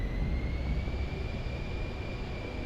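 PC-24 business jet engines in Microsoft Flight Simulator 2024, a steady broadband roar with a faint high whine held level throughout, continuous and moderately loud.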